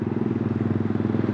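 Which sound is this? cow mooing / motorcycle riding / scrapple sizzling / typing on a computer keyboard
motorcycle riding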